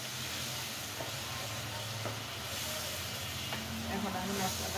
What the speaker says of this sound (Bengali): এখন আমি মশলাটা খুব সুন্দর মতো কষিয়ে নেব